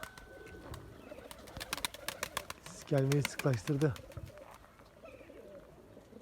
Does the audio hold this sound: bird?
yes